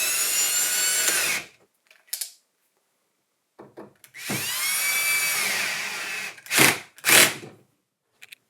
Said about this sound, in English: Finish off with the drill.